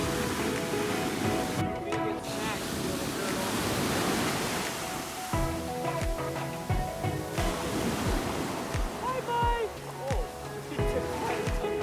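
Ocean surf washes onto a beach in Lombok, Indonesia, a steady broadband rush with voices and other sounds layered on top throughout.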